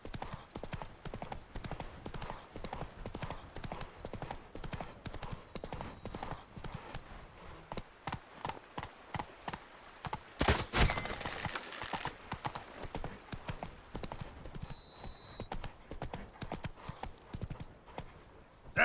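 Roach, the horse in the Witcher 3 video game, gallops with a continuous, rapid clip-clop of hooves. A brief whinny and a louder burst of noise break in midway.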